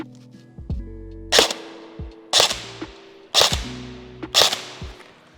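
Four sharp, snappy shots from an Elite Force HK416 airsoft rifle fired at targets, spaced about a second apart, close and loud with no talk between them.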